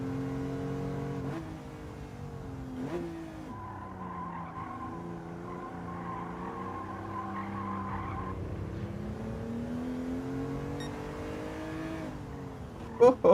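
Gran Turismo 7 race car heard continuously under braking, with engine tones shifting down and up and a tire skid squeal; loud and steady throughout with a brief sharp burst at the end.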